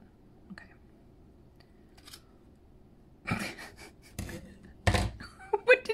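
Fabric scissors snip through pom pom yarn in a few short, crisp bursts, quiet at first and then louder and closer, with faint handling noise between the cuts.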